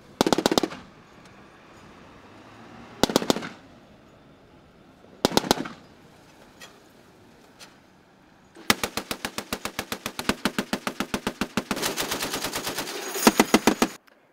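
Machine gun fire during a military live-fire shooting exercise: a few short separate bursts, then long sustained rapid strings of loud, sharp shots, close and alone.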